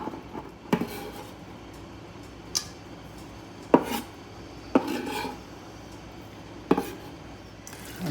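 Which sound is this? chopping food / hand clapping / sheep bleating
chopping food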